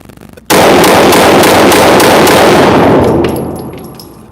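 A loud, rapid volley of gunshots from a handgun at an outdoor shooting range, several shots blurring together and ringing out before fading.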